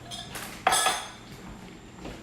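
A silicone spoon stirs flavoring into ground beef in a pan, giving a few soft scrapes and clinks of utensil on cookware, with one louder clatter near the middle and quieter shuffling afterward.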